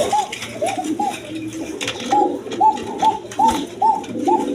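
Pigeons, including Rajgolla and other breeds at a pigeon sale, coo close by in a series of soft, repeated rolling coos, with a faint bustle underneath.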